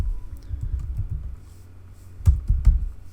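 Typing on a computer keyboard, with a quick run of soft close key taps, a brief pause, then a few firmer keystrokes.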